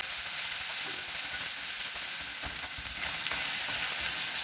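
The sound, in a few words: garlic and onion frying in a pan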